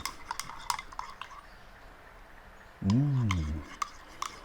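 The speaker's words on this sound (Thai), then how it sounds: "นี่ครับ คนครับให้เข้ากัน" A spoon clinks and scrapes in a cup as coffee is stirred into a cocoa drink, with light repeated taps and a brief tonal hum partway through.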